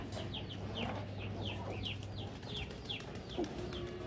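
Chickens clucking repeatedly in a quick, uneven series, moderately close, over a low steady background hum; a black hen has just laid an egg.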